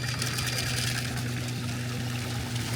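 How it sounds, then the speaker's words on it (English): Fresh well water pours steadily into the tank of a DJI T50 agricultural spray drone, a continuous close rush and trickle with a low pump hum underneath and no talking. "you want to fill your tank a third to half full of water"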